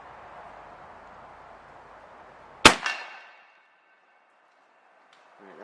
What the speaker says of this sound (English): let's go ahead and take a shot